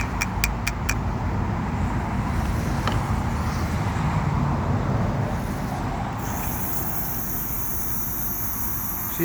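A 1998 GMC Sierra engine catches after a few clicks and settles into a steady, loud, rough idle that runs continuously and close by.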